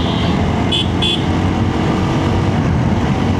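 A Bajaj Discover 135 motorcycle moves through dense city traffic, its engine a steady loud rumble under the wider road din, with brief horn toots near the start.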